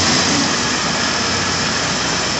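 A 1980 Triumph TR7 engine runs close by with a dense, steady roar, holding even under throttle for the whole stretch with no clear revving or pauses.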